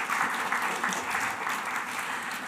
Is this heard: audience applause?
yes